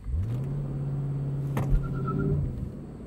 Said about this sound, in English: Going to go Sport Plus, Drive, and let's launch it